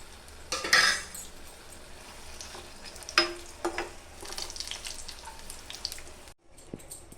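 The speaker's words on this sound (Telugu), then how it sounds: "కొంచెం చింతపండు కొంచెం చిన్న కొబ్బరి ముక్క వేసి ఈ రెండింటిని కూడా ఫ్రై చేసుకోవాలి" Steady sizzle of green chillies, tamarind and coconut frying in a pan, with occasional utensil scrapes and clinks, close and fairly quiet, cutting off briefly near the end.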